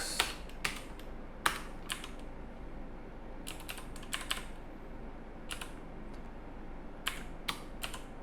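Keystrokes on a computer keyboard while a company name is typed into a spreadsheet, arriving in short scattered bursts of close, crisp clicks with quiet gaps between them.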